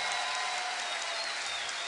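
Steady applause from an esports audience at a StarCraft 2 match fills the whole stretch, broad and even, with no voices on top.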